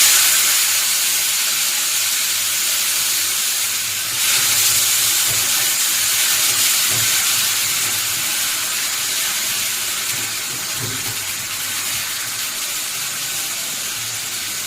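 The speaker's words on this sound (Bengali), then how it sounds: "এবার আমি মশলাটা তেলে দিয়ে দিচ্ছি" Grated tomato, onion, garlic and ginger paste fries in hot oil with a loud, close, continuous sizzle and hiss that eases slightly toward the end, no voices present.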